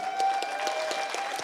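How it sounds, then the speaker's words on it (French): Audience applause at a 2021 Sciences Po Grenoble graduation ceremony: a steady wash of many hands clapping, close and even throughout, with no voices standing out. "merci d'applaudir Jean-Sébastien Haridi"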